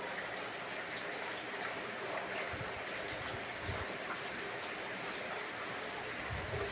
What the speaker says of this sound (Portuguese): Só escutando o pinguinho de água na goteira.